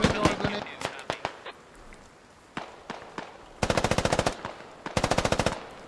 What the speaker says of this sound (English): tree-to-tree fighting going on right now. Grenades flying in.